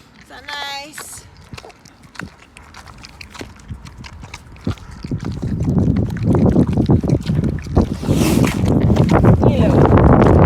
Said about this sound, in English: Yeah, windy today.